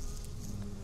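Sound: bees buzzing in Minecraft GrowthCraft mod video game

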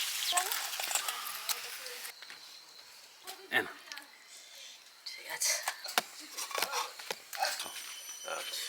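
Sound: taro (man kochu) frying in oil

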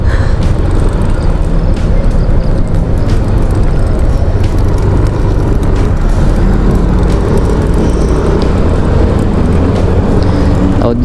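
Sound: bus engine right behind a rider in traffic

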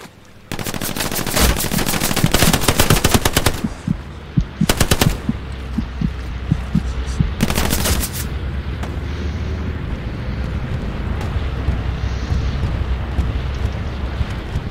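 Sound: machine gun fire in Hell Let Loose video game

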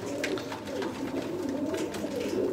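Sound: Sialkoti pigeons cooing

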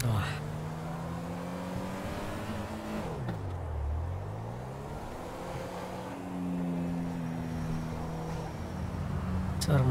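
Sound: Toyota Camry 2016 engine in a driving simulator video game

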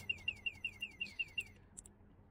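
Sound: electric scooter anti-theft alarm

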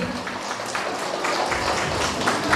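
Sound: wedding guests applauding

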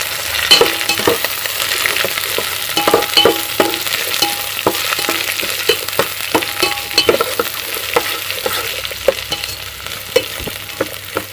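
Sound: onions and chillies frying in oil for upma

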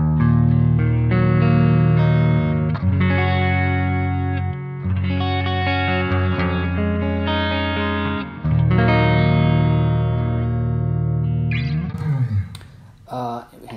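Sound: electric guitar through Line 6 Helix LT with reverb

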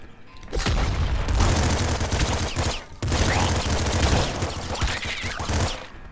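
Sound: rapid gunfire in video game Nuclear Throne

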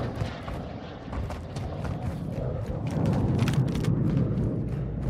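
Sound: gunfire in the video game Warzone 2.0

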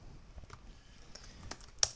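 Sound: typing on a new computer keyboard

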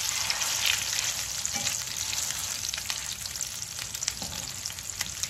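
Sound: venison burger patty searing in hot grease

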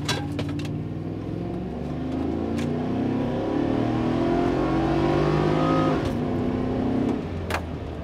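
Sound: Chevrolet Trailblazer SS accelerating hard after power braking

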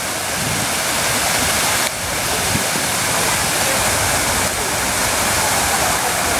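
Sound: white marble fountain splashing

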